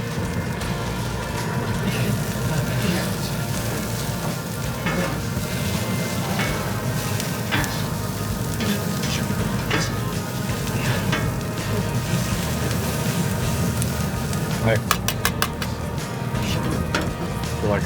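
Onions sizzle steadily in a pan on the stove for a savory tomato pie, a continuous crackling fry with scattered small pops and faint scraping throughout.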